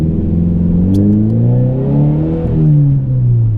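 A 2013 Subaru BRZ Premium with a six-speed manual accelerates hard at full throttle, its steady engine drone rising and shifting in pitch as revs climb, loud and close from inside the cabin with no talking.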